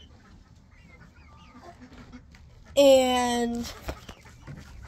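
Chicks on a small family farm let out a short, loud burst of clucking calls just past the midpoint, rising over a quieter stretch of faint talk and background noise.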